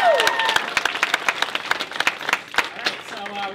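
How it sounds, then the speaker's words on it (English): An audience claps in a short burst of applause, close and lively, tapering off with a few scattered claps and a voice at the end. "So give another round of applause for them."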